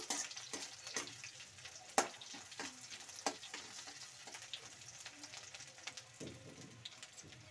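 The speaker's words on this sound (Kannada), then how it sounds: "ಈರುಳ್ಳಿ ಈ ರೀತಿ ಫ್ರೈ ಆಗಬೇಕು." Onions frying in a pan for a green bean stir-fry, a soft steady sizzle with scattered spatula scrapes and clicks, fairly quiet and close, no voices.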